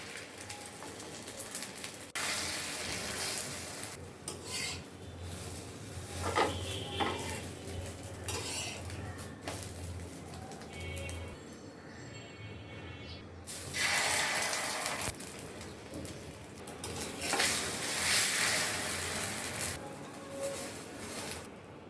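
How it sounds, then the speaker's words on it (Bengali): Eggs frying in a pan while a home breakfast is being cooked, with a steady sizzle beneath clinks of a utensil and brief scraping, some bursts louder than others, and no talking. "এখন ডিম ভেজে নেব"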